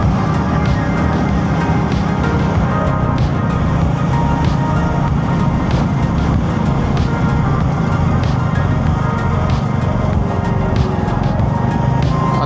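Road traffic on the Chakan Shikrapur road, a constant loud low rumble of engines and passing vehicles that never lets up.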